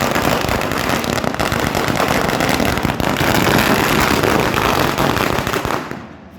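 Dense, continuous crackling of firecrackers bursting in rapid succession at a welcome during a Rashtriya Swayamsevak Sangh march in Solapur, loud and close, cutting off abruptly near the end.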